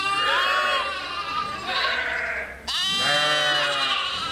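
Sheep and young spring lambs bleat on a Vermont sheep farm, several overlapping calls rising and wavering close by, loud and continuous with a brief dip before more bleats pile in.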